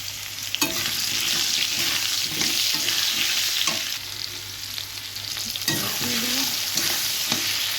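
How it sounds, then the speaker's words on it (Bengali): Potato pieces fry in hot oil until reddish brown, a steady close sizzle broken by the scrape and clatter of stirring. "আলুটা লাল লাল করে ভেজে নেবো"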